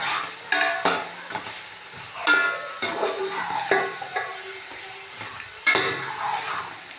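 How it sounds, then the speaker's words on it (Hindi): Potatoes fry with spice masala and crumbled chicken stock cube while a spoon stirs them, giving irregular scraping strokes and clatters over a soft, close sizzle. "इनकी कर लेंगे अच्छे तरीके से भुनाई के जो हमारा मसाला है वो आलुओं के अंदर रच बस जाए।"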